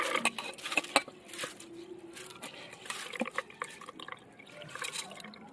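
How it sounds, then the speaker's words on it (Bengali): Water from soaked pulao rice drains through a basket in faint, irregular drips and patters, close by and quiet, with a few small splashes early on. "এবার জলটা ভালো করে ঝরে যাবে ঝুড়ির ভিতরে থাকলে"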